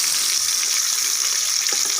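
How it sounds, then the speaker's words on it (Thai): Sun-dried fermented fish frying in a pan, a steady bright sizzle and hiss that runs unbroken and fairly loud, with no talking over it. "พอทอดแล้วไม่ค่อยติดกระทะครับ"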